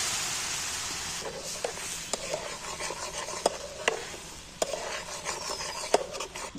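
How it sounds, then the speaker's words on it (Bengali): Spicy egg curry gravy with fried masala and added water simmers in a pan, giving a soft steady bubbling hiss broken by sharp pops and occasional utensil taps. "ঝালটা ফুটছে, এবার আমি একটা একটা করে তুলে দিচ্ছি।"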